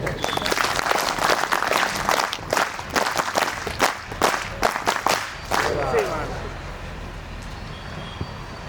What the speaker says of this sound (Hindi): तो जोरदार सिग्नेचर ताली बजाइए